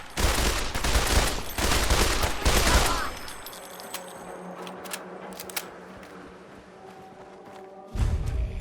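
Gunfire in Fallout 4, dense automatic bursts up close for about three seconds, then scattered single shots and clicks over a quieter hum, with another loud burst at the end.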